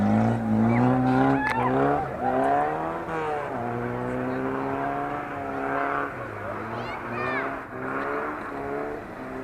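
A car drifts on ice during an ice drift championship, its engine revving and wailing in rising and falling sweeps, with a commentator talking excitedly over it throughout.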